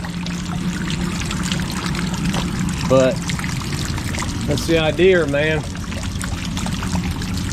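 Water from a homemade rain-making pipe pours and splashes steadily against a wall outdoors, with someone talking briefly over it.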